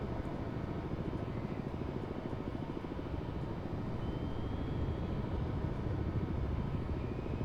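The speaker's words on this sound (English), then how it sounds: "There are helicopters." Helicopters drone overhead in the submarine video game Cold Waters, set in 1968: a steady, dense rotor and engine roar with fast rhythmic chopping, continuous and loud throughout.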